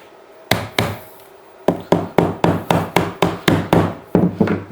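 Screwdriver levering a glued battery lid loose, a series of sharp wooden-sounding knocks, one early hit followed by about ten evenly spaced loud strikes, close up with no voices.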